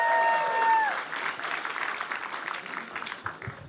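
Audience applause and cheering for comedian Ryan D at the Brea Improv comedy club, a loud sustained wash of clapping that swells early and slowly thins out, with some crowd voices mixed in.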